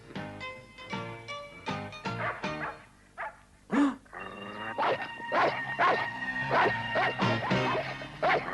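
A cartoon dog barks repeatedly in an animated French series, with sharp yaps and whimpering bursts over background music, loud and close.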